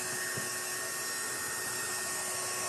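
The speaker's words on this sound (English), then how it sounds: "This is just a craft dryer," A craft blow dryer runs steadily and close throughout, giving a continuous whooshing airflow drone with a constant motor hum and no pauses, used to dry chalk paste on a door tag.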